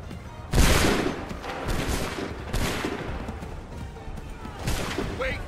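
Musket volleys firing in the video game Assassin's Creed III, three loud rolling bursts of massed gunfire a couple of seconds apart, each trailing into crackling echo over continuous battlefield noise.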